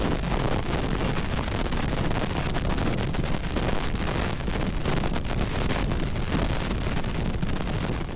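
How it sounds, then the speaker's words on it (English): Katabatic wind pouring down the steep slopes of the East Antarctic ice sheet in powerful gusts carrying sharp ice particles, heard as a loud, continuous broadband roar buffeting the microphone with no break for the whole stretch. "its constant katabatic winds, descending from the steep slopes of the ice sheet"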